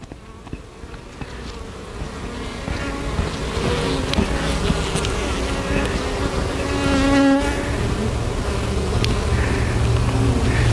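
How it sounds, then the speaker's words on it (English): A dense, steady buzzing of many honey bees around an opened hive, droning continuously close by with no voices. "This one here has bees."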